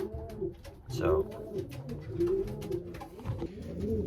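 Racing pigeons in a breeding loft coo in repeated low, throaty rolls, close and clear, with someone briefly speaking over them.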